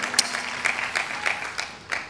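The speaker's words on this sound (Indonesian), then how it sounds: "Tepuk tangan dengan Tuhan kita." Scattered, faint hand claps from a church congregation during a night prayer service, a few sharp claps spaced irregularly over a quiet room.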